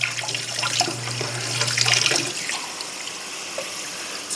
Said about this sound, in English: get a little cool water on the side.